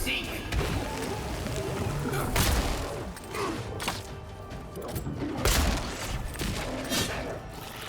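Gunfire and heavy impacts from shooting an undead enemy in Avowed, a run of loud bursts and thuds over dense game noise, with a voice talking throughout.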